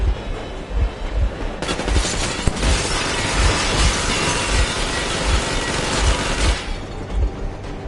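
Warning shots ring out in a video game as sustained, dense automatic gunfire with rapid repeated bursts that swell and fade over a continuous rumbling engine-like background.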